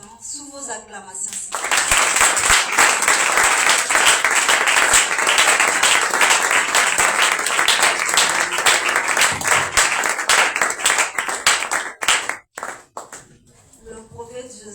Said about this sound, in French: Nous invitons l'apôtre Destin sous vos acclamations.